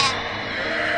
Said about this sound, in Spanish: y Oveja hizo...